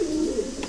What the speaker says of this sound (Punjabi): ਆਹ ਕਬੂਤਰ ਆਹ ਅੱਖ ਦਾ ਬਣੂਗਾ ਜੀ